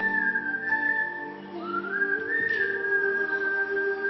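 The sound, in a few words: person whistling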